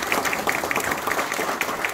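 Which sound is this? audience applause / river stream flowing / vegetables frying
audience applause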